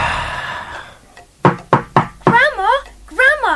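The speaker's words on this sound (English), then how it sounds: "who should come a-knocking at the door" Four sharp knocks on a door in a stage play of Little Red Riding Hood, evenly spaced and loud, preceded by a narrator's voice and followed by a sung or warbling voice.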